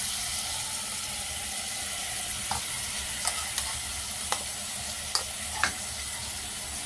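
Ground spice paste frying with mutton in a pot gives a steady hissing sizzle, with a few soft knocks of a spoon stirring near the end.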